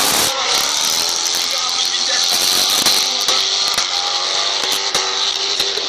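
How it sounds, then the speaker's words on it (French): Loud, continuous roar of a high-revving Ford Mustang V8 drift car engine at a drift championship, harsh and close, with rapid rattling pulses and no pauses. "je m'entends plus parler là avec cette Mustang à chaque fois, c'est vraiment de la folie ce bruit"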